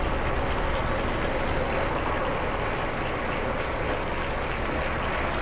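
Members of the Pope's household applaud to greet him, a steady, dense patter of many hands clapping that holds evenly throughout at moderate loudness.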